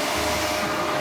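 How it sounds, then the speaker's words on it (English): A wall-mounted hair dryer in a shower room blows steadily, a loud continuous whooshing hum with no voices. "if you want to dry your hair, you just put your head here."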